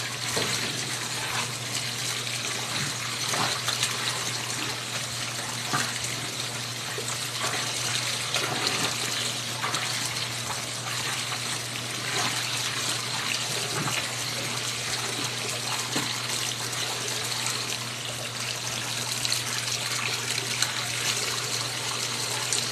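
Running water gushes steadily during rinsing, a continuous, even hiss that stays close and fairly loud with no pauses.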